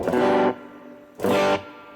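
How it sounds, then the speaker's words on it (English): Two chords strummed on a Bullfighter D160SE digital electric guitar with onboard effects, slightly crunchy, gritty tone, each ringing out briefly with a touch of reverb before fading. "There's our reverb and a little bit of crunch."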